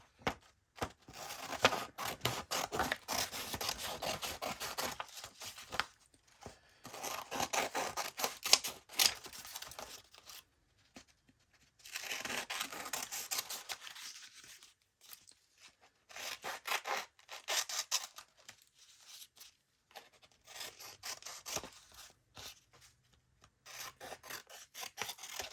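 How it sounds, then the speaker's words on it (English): Scissors cutting out small paper pieces for crafting journaling cards, close and continuous rasping snips in bursts with short gaps, heard alone without talking. "let's cut out our few ones that were just paper."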